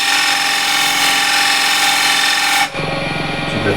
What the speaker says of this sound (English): I like to use square and scraper